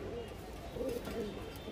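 A Pashchima pigeon at a high-flying loft gives low, muffled coos, quiet and steady against a dense murmur of background noise.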